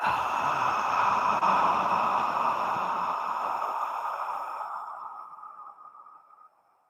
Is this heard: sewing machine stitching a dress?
no